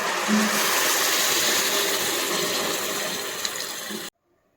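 A continuous rush of water pours into a pot of rice for about four seconds, close and steady, then stops abruptly into silence.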